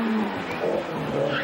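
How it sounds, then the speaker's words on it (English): A rally car kicks its tail out on a Jersey Rally stage in 1997, tyres skidding and scrabbling over the steady drone of the engine, heard from a moderate distance for a brief moment. "big tail slide from Bourdain"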